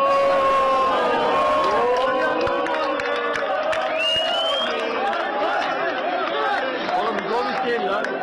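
Crowd of Galatasaray fans waiting at an airport arrivals hall, chanting and cheering for a man they take to be Gomis; a dense, loud wall of voices with overlapping shouts and applause throughout.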